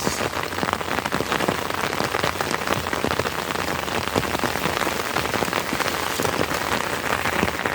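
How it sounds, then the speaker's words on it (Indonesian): Heavy rain pours onto a mountain hiking trail on Gunung Sumbing via the new Garung route, a dense, loud, unbroken hiss of drops with no voices. "Tidak lama berjalan, hujan pun mengguyur kami."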